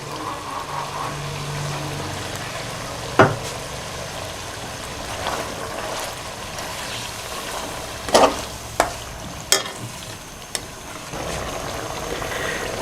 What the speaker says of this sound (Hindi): ये दही डालने के बाद मैंने 1 मिनट इसको थोड़ा सा पकाया।